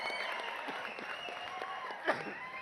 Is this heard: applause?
yes